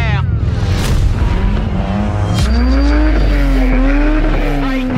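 A group of BMW M cars pulling away on a tour in Kurzeme, Latvia, with loud close engine revs, rising acceleration and a tire squeal, then a steady throaty drone as the cars drive off.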